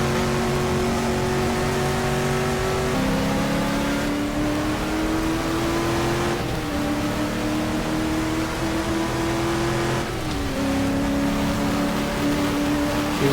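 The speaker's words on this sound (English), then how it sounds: "Another prototype arriving, Porsche 908." Race engines roar through the whole stretch in a racing video game, including a Porsche 908 prototype: loud, steady drone with shifting gear tones and rising pitch as cars pass, continuous with no gaps.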